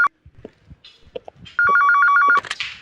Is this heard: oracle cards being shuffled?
no